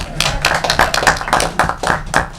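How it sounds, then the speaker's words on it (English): Audience at a township council meeting clapping, a short burst of scattered hand claps close by with an irregular rhythm. "We can clap for Joe, too"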